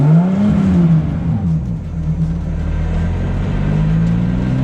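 A 600HP Nissan R32 Skyline revs and pulls away, its engine note rising and falling with a steady deep rumble underneath. The car is close and loud, and no one speaks.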